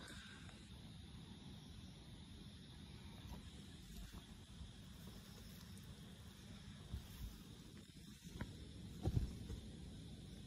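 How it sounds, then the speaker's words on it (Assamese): Steady, moderately quiet rush of strong wind buffeting a tent overnight at a petrol pump, a continuous hiss with a few brief thumps and flaps near the end, no speech. "বতাহজাক মানে বহুত হেভিকে আহিছে"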